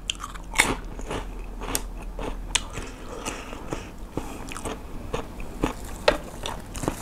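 Crisp, close biting and crunching of Korean soy-marinated salmon wrapped in seaweed, in repeated sharp crackles followed by chewing.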